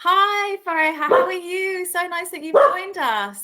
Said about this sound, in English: my dog is here as well. You can probably hear her in the background.